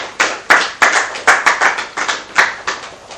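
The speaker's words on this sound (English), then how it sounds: "A round of applause for him." A small group claps in a loose, uneven rhythm at a Game On event, about a dozen distinct, fairly close hand claps rather than a full roaring ovation.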